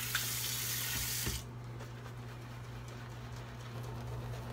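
Water runs from a tap in a strong hissing stream for over a second, then cuts down to a quieter steady flow beneath a constant low hum.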